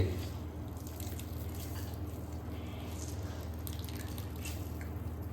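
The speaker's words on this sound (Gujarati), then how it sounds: "હવે આપણે એને હાથ વડે આ રીતે દબાઈને પાણી અલગ કરી લેવાનું છે." Water drips and squishes steadily as grated vegetables for dry Manchurian are squeezed by hand, a soft continuous wet trickle close by with no talking.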